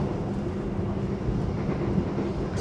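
Kutojaya Utara passenger train running at night, a steady loud low rumble of wheels and carriage noise throughout, heard from inside with no talk.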